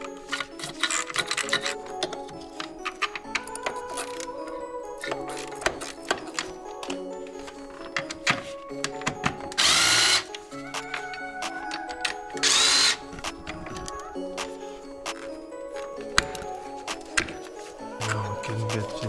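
A 10mm bolt and nut are worked off a metal bracket on a 2019 Jeep Grand Cherokee during a spark plug change: scattered clicks and taps, then two short, louder mechanical whirring bursts, close by.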